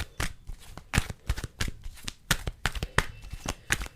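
A tarot card deck being shuffled up close, with quick papery riffles and flicks in a steady, uneven rhythm, heard alone without talk.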